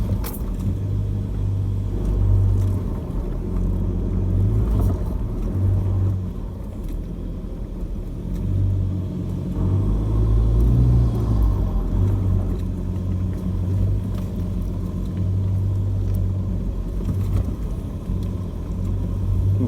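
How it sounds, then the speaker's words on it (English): A Toyota Prado 4x4 grinds along a rough off-road track, its engine rumbling low and continuously with surges and brief revving as the wheels spin, no voices heard. "Bit of wheel spin going on here or there. Definitely a rough track."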